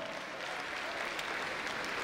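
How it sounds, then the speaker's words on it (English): Audience at a live stand-up comedy show applauding in a steady, dense wash of clapping that holds at an even level from start to finish, with no talk over it. "We're gonna clap for her now."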